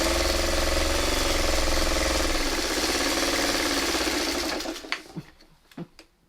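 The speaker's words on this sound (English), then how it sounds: "we're going to back stitch just to make sure we got it" A sewing machine back stitches through quilt fabric, running in a steady loud whir for about four seconds before stopping, followed by a few soft handling taps.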